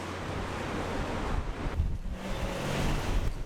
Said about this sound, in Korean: 바람을 삼킨 파도가 거칠어지고